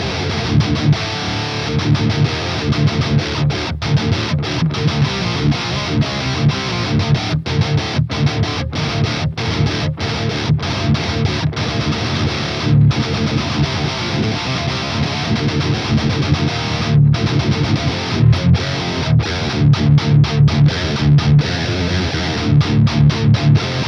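Heavy distorted electric guitar through an Engl amp, miked with SM57s on both cabs, plays a dense, tight, chugging metal riff, loud and continuous with no voices.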